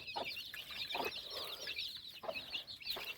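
A hen sitting on duck eggs clucks repeatedly in low, rhythmic bursts while high chirping birds chatter continuously nearby.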